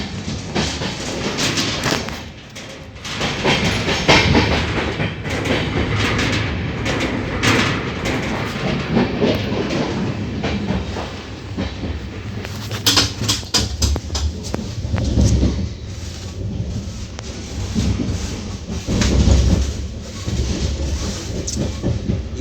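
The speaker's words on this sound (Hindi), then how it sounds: "यह हमसफ़र एक्सप्रेस जो नई दिल्ली से खुलकर गोड्डा तक जाती है" The Humsafar Express, running from New Delhi to Godda, rolls along the rails with a loud, steady rumble and rhythmic clatter that surges in places, with no voices over it.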